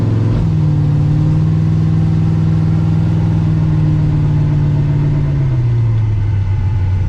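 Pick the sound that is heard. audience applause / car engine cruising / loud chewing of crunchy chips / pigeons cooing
car engine cruising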